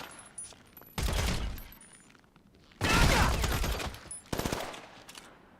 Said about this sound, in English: You gotta love that AP pistol.